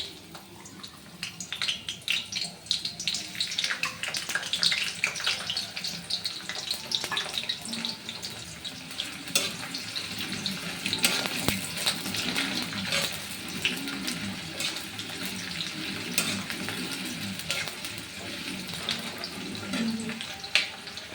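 Chopped onions fry in a pan for a Bengali omelette curry, giving a steady, crackling hiss that rises and falls with stirring and continues close and moderately loud throughout.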